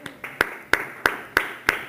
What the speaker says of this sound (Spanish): Den un aplauso a Jesús en esta noche.